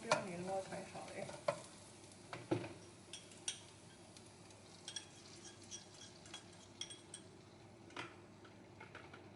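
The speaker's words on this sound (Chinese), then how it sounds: "现在我要把蛋丢进去啦，希望不要粘锅才好嘞。" An egg frying in a wok for Maggi goreng, stirred with repeated metal scrapes and taps over a faint sizzle, close and quiet with no talking.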